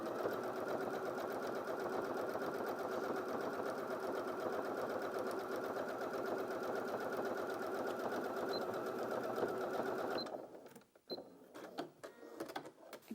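A Janome DKS100 sewing machine stitches steadily through four layers of fabric with a fast, even mechanical whir, then stops abruptly, leaving quiet handling noise.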